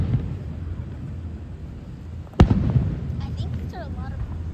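Fifth of July fireworks going off outdoors: one sharp loud bang stands out midway above a rumbling background of crowd noise and wind, with faint whistling streaks after it.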